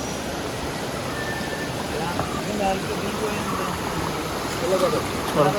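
The Kallar river rushes through the hills after rain, a steady close roar of flowing water with occasional faint chirps and soft voices mixed in.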